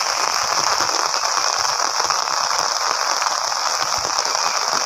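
Rain falling outdoors on a sunny day, heard as a dense, even hiss that holds steady and fairly loud throughout, with no voices.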